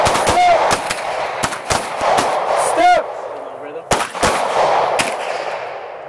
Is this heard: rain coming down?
no